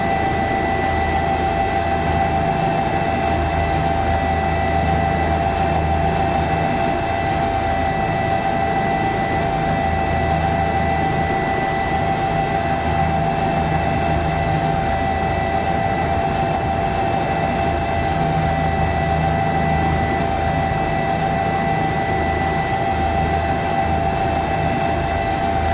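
A Bell 206 helicopter in the X-Plane flight simulator gives a loud, steady turbine whine with a constant drone and rotor rumble, holding unchanged throughout with no talking.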